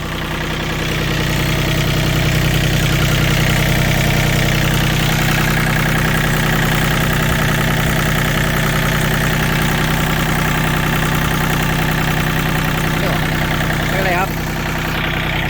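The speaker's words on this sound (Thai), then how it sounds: "เสียงเครื่องนิ่มๆครับ" A Yanmar 39 hp farm tractor engine idles steadily and loudly nearby, a constant even drone holding throughout with a slight shift near the end.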